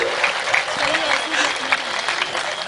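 Audience at a comedic poetry gathering clapping in a loud, continuous burst, with a voice talking over the applause.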